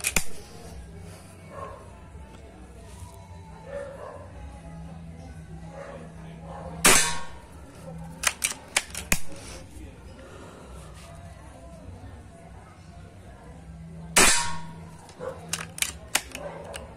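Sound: air rifle firing 5.5 pellets, 12 shots

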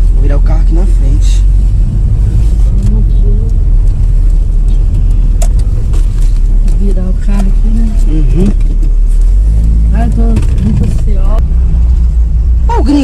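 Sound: car turning around

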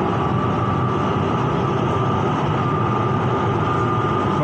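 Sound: MRT Green Line electric train approaching station

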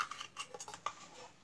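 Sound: spoon mixing ground spice masala into batter

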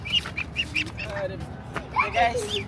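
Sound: ducks quacking, ducklings being handled

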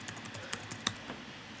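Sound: typing on a computer keyboard

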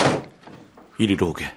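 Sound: door closing sound effect in audiobook

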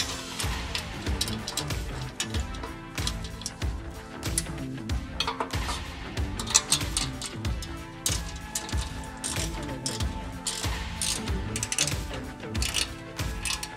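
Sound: loosening 10 millimeter bolts on RAM ProMaster bumper brackets

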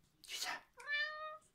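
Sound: cat meowing

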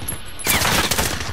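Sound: AUG rapid-fire gunfire in Call of Duty Modern Warfare video game

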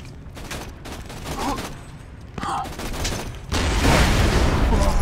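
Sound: two rocket launchers firing and exploding in Borderlands 2 video game

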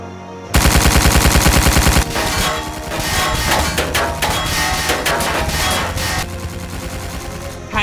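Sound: Stone Army gunfire in Ninjago animated film

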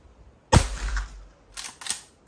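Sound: Henry Classic lever action rimfire rifle shots

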